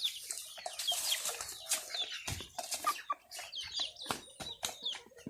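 Three local chickens cluck and squawk in a container on a weighing scale, a busy close run of sharp, overlapping calls with brief pauses, loud and continuous throughout.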